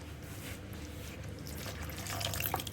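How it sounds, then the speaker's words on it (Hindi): About a third of a cup of water is poured into a thick cauliflower, potato and pea curry in the pot, a steady close splashing pour that builds slightly louder toward the end, with no talk. "तो इसमें तकरीबन हमने 1/3 कप पानी और डाल दिया है"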